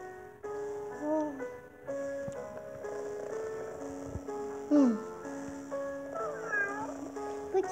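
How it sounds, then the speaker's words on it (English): Maine Coon cat meowing repeatedly, several short harmonic calls with sliding pitch over a steady background hum, with faint voices in the room. "This is a Maine Coon cat, and this is what it looks like for shows."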